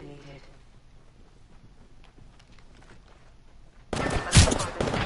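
Gunfire in Apex Legends, a sudden loud burst of close shots near the end after a quieter stretch of faint game ambience and low voices.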